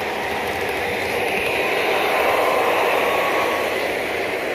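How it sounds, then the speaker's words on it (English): An O scale model train runs past in a hobby shop layout, giving a steady, continuous rumbling hiss of wheels on track that holds at an even level throughout, with no voices. "Wait for the train to go by."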